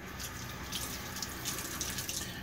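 Japanese natural sharpening stone rinsed under a running tap, a steady close splashing water stream with small bright drips throughout.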